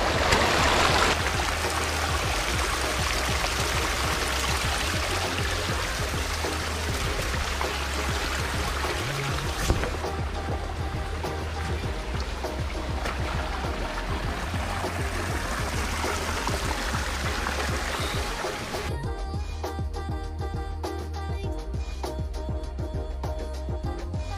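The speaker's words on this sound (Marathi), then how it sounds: "आता आम्ही बेअर ग्रिल्स जसा पाण्यातून जातो तसा आम्ही आलेलो आहे." A shallow forest stream in the Sahyadri hills near Dronagiri fort rushes loud and steady as people wade through the water. The flow continues unbroken for the whole length, with no voices.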